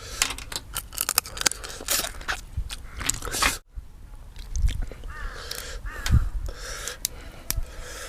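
A crow caws several times against a busy, crunchy background of scraping and rustling, with the calls standing out at moderate distance.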